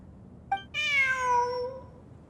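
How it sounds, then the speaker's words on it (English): A cat in the Genshin Impact video game gives a single drawn-out meow, clear and close, preceded by a brief chirp and heard alone with no voices. "Look! A cat!"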